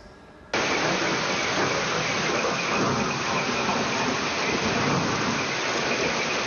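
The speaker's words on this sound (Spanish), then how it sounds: "Así fue la fuerte tormenta eléctrica que cayó la madrugada de este viernes en Quito" Heavy thunderstorm rain pouring over Quito in the early morning, a dense, steady roar of rainfall that bursts in after a brief quieter moment and stays loud and constant, with no voices.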